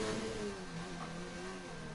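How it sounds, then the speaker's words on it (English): A racing car engine in a racing video game holds high revs near the limiter, a loud, buzzing mid-pitched drone that wavers slightly in pitch without a break. "Todster, very interesting, on the rev limiter."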